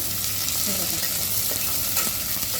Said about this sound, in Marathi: आता हा कांदा आपल्याला चांगला तेलामध्ये परतून घ्यायचा आहे